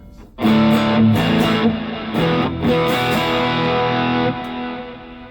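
Big chunky open cowboy chords strummed on a G&L Doheny Tribute electric guitar through the neck pickup with distortion, loud and sustained, several ringing strums with no talking.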